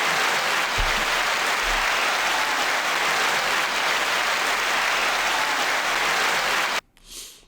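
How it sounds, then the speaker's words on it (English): Steady applause from an audience on a music chart show, dense and even for about seven seconds, then cutting off abruptly into near silence. "9-second applause"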